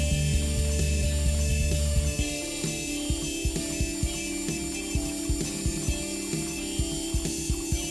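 Aluminum stock being machined in a workshop: a steady mechanical hum with a dense run of repeated sharp clicks and ticks as the cutter works.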